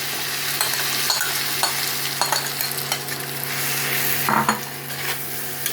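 Potatoes and fried Gobindobhog rice sizzle in hot oil in a pan for a Bengali muri ghonto dish, a constant bright hiss punctuated by scraping spatula strokes and clinks as the mixture is stirred, with a low steady hum behind it.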